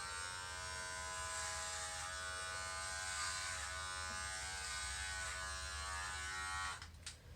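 Electric hair clippers fitted with a number 2 guard buzz steadily and close at a faint level, cutting hair with an even droning hum that cuts off abruptly near the end.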